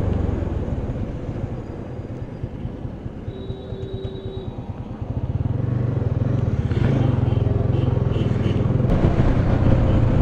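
A Royal Enfield Bullet motorcycle is being ridden, its engine a steady low thumping drone that grows louder and rougher about halfway through, with wind and road rumble around it.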